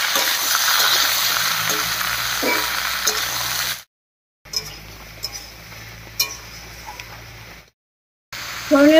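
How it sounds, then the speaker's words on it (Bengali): Cut ash gourd hits hot mustard oil already tempered with whole cumin and bay leaves, sizzling loudly up close. A utensil stirs it with scraping clinks, broken by brief silent cuts. "ফোড়নের উপরে চাল কুমড়োটা দিয়ে একটু নাড়িয়ে নিয়েছি"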